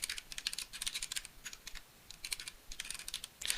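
Email and password being typed on a computer keyboard while creating an account, a quick run of close, crisp key clicks in several bursts with short pauses between.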